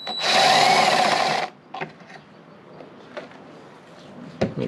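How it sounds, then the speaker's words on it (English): An ultrasonic cleaner runs with a loud, steady buzzing hiss for about a second and a half before cutting off, leaving faint clinks and shop handling noises. The cleaner is being used to clean a carburetor from a Toro 2-cycle engine. "Turn on the ultrasonic cleaner."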